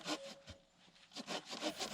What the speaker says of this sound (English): sawing them into smaller pieces and splitting them with an axe for dry firewood